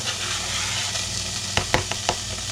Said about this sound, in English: Oh yeah, I can hear it sizzling, can't you?